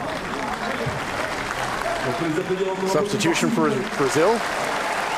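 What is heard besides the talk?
crowd applauding at a blind football match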